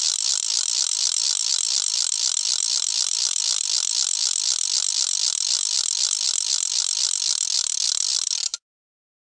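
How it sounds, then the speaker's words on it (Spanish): A carraca, a wooden ratchet percussion instrument, rattles in a fast, continuous stream of crisp clicks for over eight seconds, loud and close, then cuts off abruptly into silence. "Carraca."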